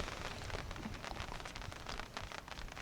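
Rain patters steadily on a small 4-foot awning at an overland camp beside a Toyota Tacoma, a dense, even hiss of drops with no voices.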